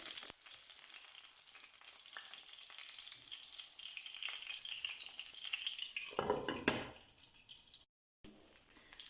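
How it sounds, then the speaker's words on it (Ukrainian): Pork chops fry in a covered pan over medium heat. A continuous, moderately quiet sizzle runs throughout, with a louder burst of crackling near the end and a brief gap of silence. "Жаримо з обох сторін на середньому вогні до готовності."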